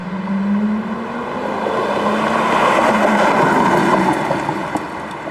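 Porsche Carrera GT engine running steadily while driving, a loud sustained tone that swells slightly in the middle, with no voices.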